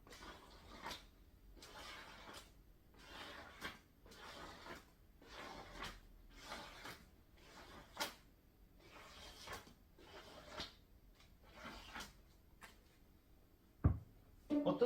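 Paper pages being handled and turned, a series of soft crisp rustles and flips repeating every second or so, close and quiet.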